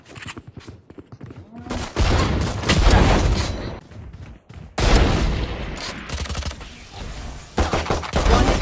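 Rapid gunfire from the video game Valorant, with several dense bursts and sustained volleys of shots close up and loud, separated by brief lulls, with faint voices.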